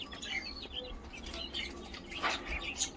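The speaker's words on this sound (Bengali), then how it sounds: "এগুলো সব আমার বাড়ির পায়রা।" Domestic pigeons kept at a home give scattered chirps and brief wing flutters, close and moderately loud over a steady low background hum.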